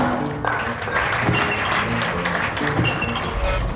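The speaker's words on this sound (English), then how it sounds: "studio audience laughter and clapping, and more unexpected sonic accompaniment as you work your way through the game's many puzzles" Studio audience clapping in the Escape Plan puzzle game, a dense and steady wash of applause that stays loud and sustained throughout, with faint crowd murmur underneath.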